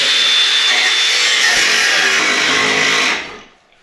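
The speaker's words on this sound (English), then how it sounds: "we're cutting the front of the chassis off so we can move our new piece of chassis in the hole" Battery power tool cutting through the front of a GT40 chassis at the bulkhead, a loud, harsh continuous grinding roar close by that cuts off and winds down near the end.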